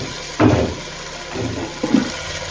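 Water from rinsing a mixer jar is poured into a pot for mushroom biryani. It comes in a few short, close splashy pours, separated by brief pauses.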